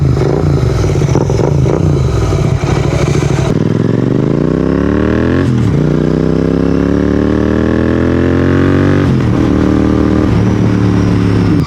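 A Royal Enfield GT 650 motorcycle engine pulls loud and close while riding, rising through the revs in smooth climbing sweeps with brief dips at gear changes, a deep twin-cylinder drone throughout.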